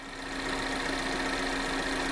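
A 2012 Chevrolet Captiva with a 2.4 16v engine idles with a constant, even hum and a steady tonal drone, close and loud, with no voices.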